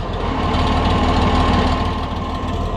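Steady diesel drone from an Oliver 1655 tractor with its hydraulics straining and blowing the relief valve, a continuous loud rumble carrying a strained whining tone throughout, with no talk.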